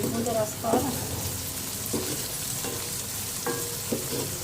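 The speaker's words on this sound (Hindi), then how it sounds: "इसको भूनना है" Okra and eggs fry and sizzle in a pan spiced with garam masala and salt, with a steady hiss broken by several scraping stirs of a spoon, close and moderately loud.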